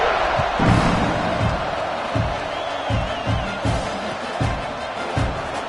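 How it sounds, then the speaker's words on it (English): A football stadium crowd buzzes with a steady roar after a touchdown, broken by periodic low thumps and swells of cheering. "this crowd is buzzing after that last score"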